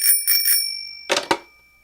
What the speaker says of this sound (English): Jason, the bell.